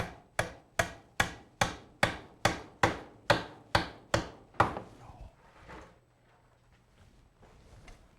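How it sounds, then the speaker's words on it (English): A hammer drives a sinker nail through a wooden shim up into a basement ceiling joist, about eleven sharp, evenly spaced blows in quick succession that stop abruptly, followed by quiet room sound. "we'll just nail a sinker through the shim up into the joist"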